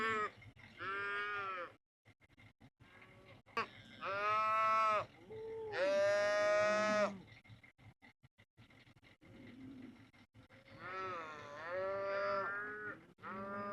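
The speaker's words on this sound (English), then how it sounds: "Cows are eating right now." Cattle out at feeding time in a canyon mooing at close to middle distance, several long, drawn-out calls with brief gaps between them, faint background noise and no voices.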